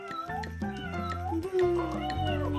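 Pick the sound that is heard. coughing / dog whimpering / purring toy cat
purring toy cat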